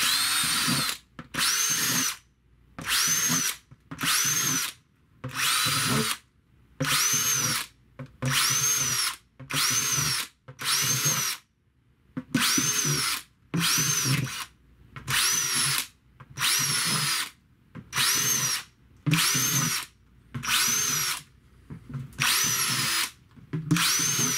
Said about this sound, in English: I'm gonna drill a whole bunch of little holes here.